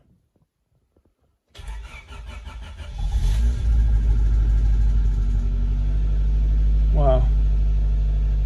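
A Honda Civic VTi EG with a DOHC VTEC engine, unrun for six years on stale fuel, cranks and catches, then settles into a loud, steady close idle rumble while a voice briefly exclaims over it.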